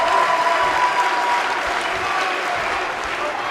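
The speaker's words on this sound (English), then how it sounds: "I don't remember the last time I heard a more passionate crowd than the one we have here tonight" A wrestling arena crowd in WWE 2K19, at an ECW One Night Stand 2005 pay-per-view, cheers and applauds in a dense, steady roar of clapping that stays loud throughout.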